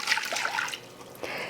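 Warm water poured into a bowl for bread dough, a short close splashing trickle lasting under a second, then a brief second spurt.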